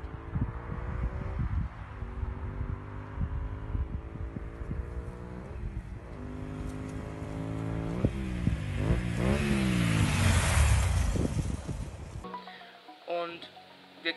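Honda Varadero 125 motorcycle riding with its engine revving up and down in a steady drone, rising in pitch toward the end under wind noise, with a brief pause and a short burst near the close.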